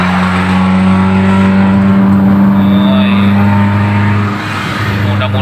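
A Suzuki Ertiga with a racing exhaust revs hard and close, a loud steady droning growl that holds high before dipping briefly near the end.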